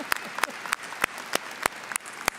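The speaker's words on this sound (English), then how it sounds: "We can applaud there, yeah." Sparse applause at a college commencement ceremony, with distinct individual claps landing at a loose, irregular pace and fairly close, instead of a full roaring ovation.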